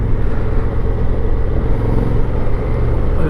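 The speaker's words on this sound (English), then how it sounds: "There's a bike behind me" A motorcycle rides close behind a rider on a 2024 Africa Twin Adventure Sports, its engine a loud continuous low drone mixed with steady road and wind rumble.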